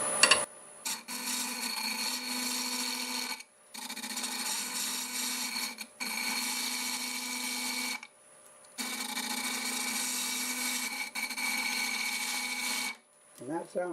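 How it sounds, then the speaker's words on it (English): A segmented bowl made from scrap wood spins on a lathe at about 800 RPM while a 1/2-inch bowl gouge rounds it, giving four long bursts of steady scraping and whirring cut by short pauses. "1/2-inch bowl gouge, and I'll probably get about 800 RPM."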